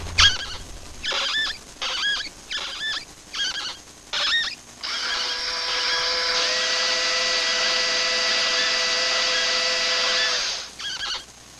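Screws being driven in a 1980s commercial, including a Skil Twist cordless screwdriver: several short whirring tool bursts, then one long steady whine of about six seconds, close and loud, with no talk.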